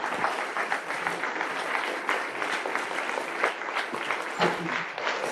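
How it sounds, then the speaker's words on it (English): Audience at a physics talk on science in Ukraine applauds, a dense, sustained roll of many hands clapping at moderate loudness, with a few sharper claps standing out near the end. "Thank all of you for this applause"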